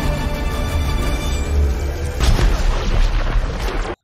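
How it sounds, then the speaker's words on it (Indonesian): A steady rumble swells into a loud, booming explosion from an animated film superpower blast that roars for a couple of seconds before cutting off abruptly. "Adam pun tidak dapat mengendalikan kekuatan supernya hingga muncullah ledakan besar."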